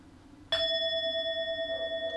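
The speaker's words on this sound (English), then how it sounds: "here comes our bell" A single meditation bell is struck once, ringing clear and pure with a long, slowly pulsing sustain that stays strong right to the end, with no talk over it.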